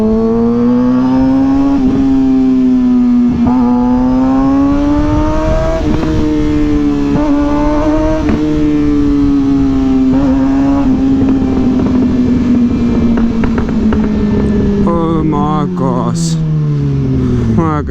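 A Suzuki GSX-R 600 motorcycle riding with a loud, steady engine drone that repeatedly rises and dips as the rider revs through the gears, ending in a falling pitch, close to the microphone with a voice briefly audible.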